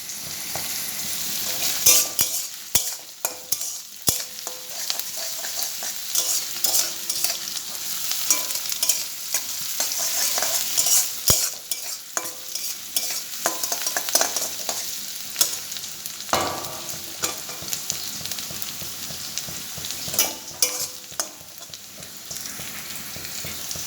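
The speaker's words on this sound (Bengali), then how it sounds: "এটা একটু ভাজা ভাজা হোক" Steady sizzling of chow mein noodles frying in a pan, with frequent scraping and clattering of a spatula stirring throughout.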